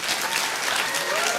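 A stand-up comedy crowd breaks into dense, sustained clapping that fills the room at steady loudness from start to finish, with no voice on top.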